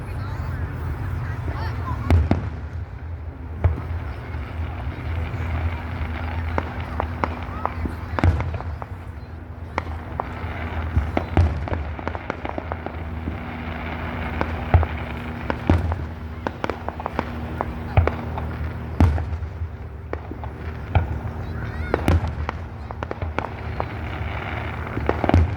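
Fireworks finale for a July 4th 250th anniversary celebration, a long run of sharp crackling bursts and distant booms, dense and continuous, with faint voices of onlookers underneath.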